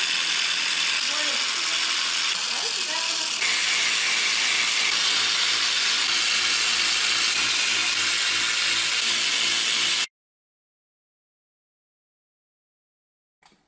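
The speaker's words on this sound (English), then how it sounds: "We just need to remove the oil pump, and we have to remove the sprocket at the front and then all the bolts around." A hand ratchet clicks rapidly and continuously for about ten seconds close by, loosening bolts around the oil pump and front sprocket of a rebuilt BMW engine, then stops abruptly into near silence.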